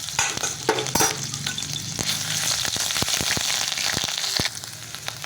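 Ginger and garlic paste sizzles and crackles in hot oil in a pan while being stirred, with a close, steady frying hiss broken by sharp scraping clicks.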